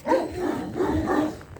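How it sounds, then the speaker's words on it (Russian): Neighbours' dogs barking outdoors in a January snowstorm, a short run of several muffled barks at moderate distance, heard alone without talk. "Собаки соседские, да?"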